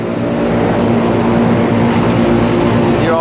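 A Carrier Gemini split system central air conditioner runs close by, a loud, steady mechanical hum with a constant fan rush and droning motor tones throughout.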